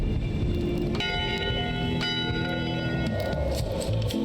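A ship's bell sounds on deck in Return to Monkey Island, a few clear metallic strikes about a second apart that ring on with sustained tones over a busy, noisy background.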